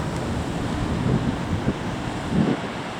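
Rough sea waves breaking at Worthing, West Sussex on a fresh, windy day, a steady roar of surf with a couple of heavier swells surging through, buffeted by wind noise on the microphone.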